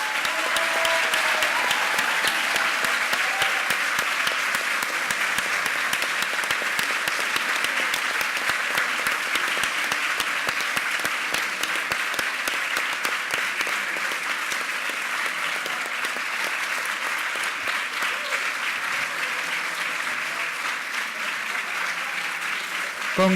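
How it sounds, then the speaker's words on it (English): Sustained, dense applause from a large audience at a university graduation ceremony for MSc Global Strategic Management graduates, steady and loud throughout with no break. "congratulate these graduates with a big applause"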